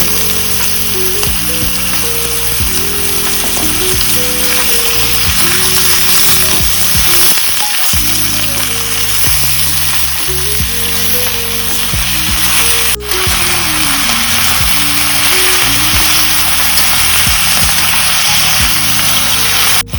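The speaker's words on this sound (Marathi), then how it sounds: "आता थोडे तेल घालून मग तेलात परतून घेऊया। तर वांगी तेलात परतून" Brinjal pieces frying in oil for a Goan vainge masala curry, a loud, continuous dense sizzle lasting throughout, mostly covered by steady background music with a brief dip midway.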